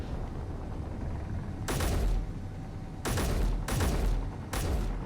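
Rapid-fire rifle gunfire in a video game, heard as four loud, broad bursts of shots, each about half a second long, set apart by short pauses over a steady background rumble, with no talking.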